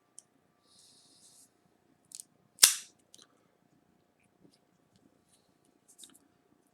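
A cutter snips the cap off an Ashton Symmetry Belicoso cigar with a single crisp, sharp snap in an otherwise quiet room, surrounded by a few faint clicks and small handling noises.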